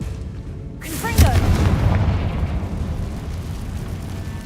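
A Confringo blasting spell in Hogwarts Legacy bursts into a loud booming explosion, followed by a sustained rumbling roar and crackle that fades slowly.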